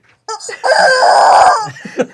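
A person imitates a chicken, giving one loud, drawn-out crow-like call after a brief vocal lead-in, close and clear, with short voice sounds around it.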